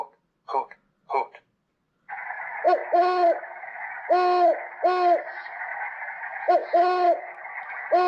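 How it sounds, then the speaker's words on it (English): A great horned owl gives a series of deep, resonant hoots, mostly in close pairs, over steady hiss, after two short bursts of human speech. "Great horned owl, 5 deep hoots."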